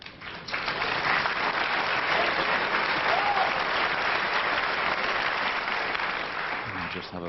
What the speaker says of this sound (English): I just have a feeling the crowd are going to clap every shot.